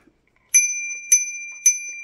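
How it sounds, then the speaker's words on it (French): A small bicycle bell rings three times in quick, evenly spaced dings, each bright metallic tone ringing on briefly; close and clear with no other sound. "Des petites sonnettes pour mettre sur"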